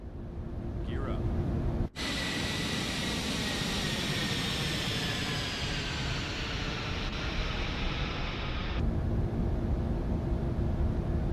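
Lockheed L1011-500 TriStar jet climbing after takeoff in Microsoft Flight Simulator, a steady loud engine roar with a rising whine, briefly cut once, and speech over it.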